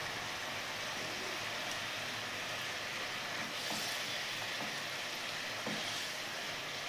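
Fish curry gravy for a yogurt chital korma bubbling in a pan, a steady soft hiss of simmering broken by a few faint pops and spatters throughout.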